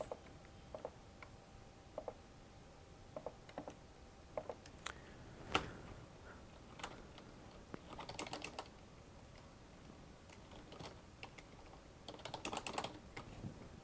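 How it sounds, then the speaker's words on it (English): Someone types a short note on a computer keyboard, quiet irregular key clicks arriving in small clusters with pauses between, close but soft, with no voices. "I'm going to just put a note on the file name for Jake to cut at"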